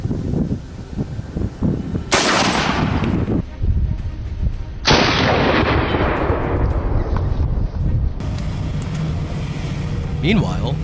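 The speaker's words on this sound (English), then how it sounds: "The gunshot rang out, clear and final." Two loud gunshots ring out during a wild boar hunt in a swamp forest, each a sharp blast followed by a long, rolling echo that fades slowly.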